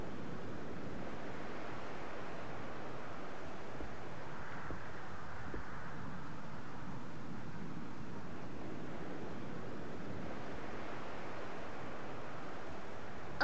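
Sea waves in the game Tales of Graces f, a steady, soft wash of surf with gentle swells rising and falling, continuous and mid-distance with no talk.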